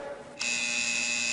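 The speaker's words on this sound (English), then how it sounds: "Push the goddamn buzzer, will you?" Door buzzer sounding in a movie scene: a sharp, steady electric buzz that starts suddenly after a brief quiet moment and holds continuously at close range.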